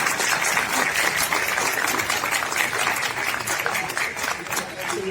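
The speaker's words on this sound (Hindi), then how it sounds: "एक बार जोरदार तालियां बजाएं।" A large crowd of voters at a political gathering in Delhi claps loudly and continuously, a thick, sustained roar of many hands with no pauses and no speech on top.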